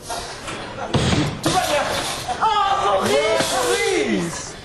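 A performer tumbling on a comedy stage in a Robins des Bois show lands with a heavy thud, followed by crowd noise and laughter with voices over the top.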